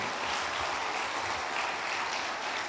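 A church congregation applauds during a pastor's sermon, a steady, dense wash of many hands clapping together that holds at an even level throughout, with no voices standing out.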